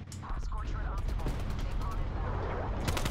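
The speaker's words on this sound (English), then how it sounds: "I'm gonna napalm hill." Napalm strike in Call of Duty league play: a dense, roaring wash of explosions and crackling fire, loud and continuous for a few seconds, with sharp bursts near the end.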